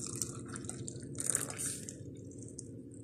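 Caramel syrup is poured from a pan into a cup, giving soft, quiet trickling and dripping with no voices.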